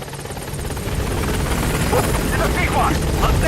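The Pequod helicopter from Metal Gear Solid V gains altitude over a landing zone, its rotor a loud, steady churning drone that swells slightly, with a voice talking over it.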